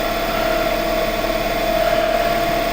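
A wood lathe spins at 1090 RPM and has begun vibrating, giving a steady, loud motor whir with a constant humming tone and broadband rushing noise and no pauses throughout.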